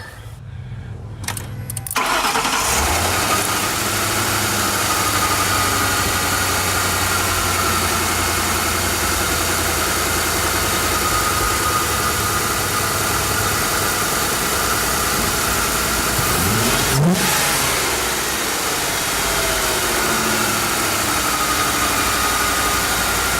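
A Ford Modular 2V engine cranks and catches, then settles into a steady, loud idle with a brief rev partway through. No one speaks.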